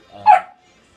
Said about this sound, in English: that's my puppy. He's whining right now